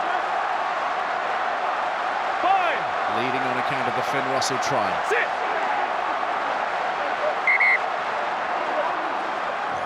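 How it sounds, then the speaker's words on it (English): Rugby stadium crowd at a World Cup match between Japan and Scotland, a steady broad roar of supporters beneath continuous commentary, with a brief swell of cheering midway and a whistle-like tone near the end. "Crowd are getting lively as well, getting behind this Japanese team"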